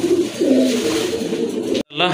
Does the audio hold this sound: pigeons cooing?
yes